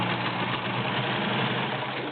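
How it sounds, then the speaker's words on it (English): A Kenmore 1703 heavy-duty 1.2 amp cam sewing machine drives a size 16 needle through six layers of denim, giving a steady, loud motor whir with rapid, even stitching that runs without a break. "I'm going to sew 6 layers of denim using a 16 needle."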